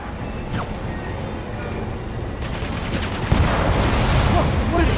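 Dense, continuous gunfire and fusillade from the video game Spider-Man Remastered, loud and sustained, with a sharp jump in intensity partway through and a brief voice nearby.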